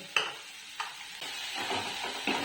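Onion frying in a pan with cumin powder and a little sugar while a cheese white sauce for pasta cooks nearby, giving a soft steady sizzle broken by a few sharp stirring clinks and scrapes.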